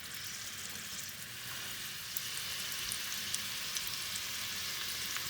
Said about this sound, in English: once the oil is warm, we're going to start putting our Seekh Kabab on the pan